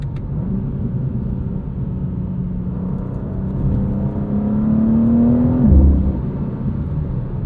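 BMW M2 CS G87, a 523 hp lightweight coupe, accelerating hard through traffic: a steady engine drone rises in pitch as revs climb, then drops sharply at a gear change, heard close from inside the cabin with no talking.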